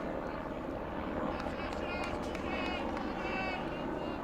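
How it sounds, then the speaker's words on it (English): A steady mechanical drone of a helicopter passing overhead across a high school baseball outfield, constant and moderately loud, with crowd noise mixed underneath. "Helicopter flies over across the outfield."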